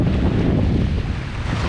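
Strong storm wind buffets the microphone over Lake Jocassee during kayaking, a loud, continuous low roar with gusty fluctuation and no voices.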